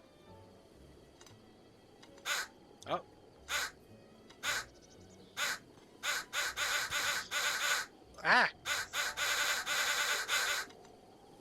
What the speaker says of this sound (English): The crow cannon is at full capacity, apparently.